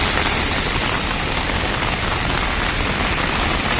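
Rain falling on a Jakarta street, a dense, continuous hiss of drops pattering on pavement and surfaces, loud and unbroken from start to finish with no voices.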